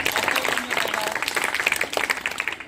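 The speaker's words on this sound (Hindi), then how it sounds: "तालियां बताइए।" An audience at a school Hindi fortnight prize-giving ceremony claps for a student, with individual claps clearly audible in a lively, uneven patter that gradually thins toward the end.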